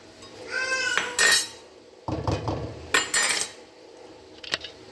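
Chicken pota is served out of a cooking pot with a metal spoon, giving several loud clinks and scrapes in irregular bursts with quiet gaps between them.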